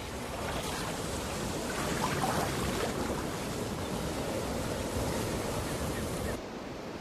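Ocean waves wash and surge steadily at sea, a dense, continuous roar of surf with some wind noise, loud throughout and dropping slightly in the final half second.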